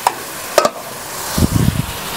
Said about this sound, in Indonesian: aku mau tambahin air. Aku punya air panas tadi, secukupnya aja ya